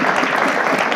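Audience applause at a consumer packaged goods pitch competition, a dense steady wash of many hands clapping that fills the whole moment without a break.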